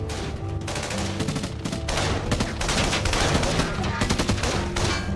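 Sustained gunfire in the video game Wizard Tower, dense bursts and rapid automatic fire running continuously over a busy game soundscape with music-like tones, loud and close throughout.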